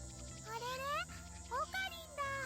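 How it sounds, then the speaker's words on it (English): Shrill, rising cicada chirps from a few trees in a video game come in short bursts over a steady low hum, close and moderately loud. "I can hear the chirping of cicadas from the few trees growing here"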